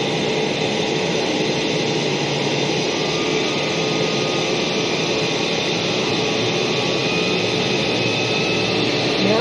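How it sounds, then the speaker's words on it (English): A pump station pump driven by a VFD runs as its speed is raised, giving a loud, continuous broadband roar and whine that holds steady throughout with no talk. "VFD speed pot, you have it pointed to the number of the pump you want to turn on. And I'm going to increase the speed."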